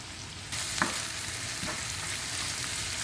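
Sliced onions fry in a pan toward browning for Kerala-style ghee rice, a dense continuous sizzle heard close, with a faint clink or two of stirring and no talk.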